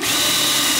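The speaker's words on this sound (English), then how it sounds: "We're going to put the drill, the eye bolt right there." Power drill driving an eye bolt into a hog-catching pig pipe, a steady high whine held loud and close for under a second with no pause.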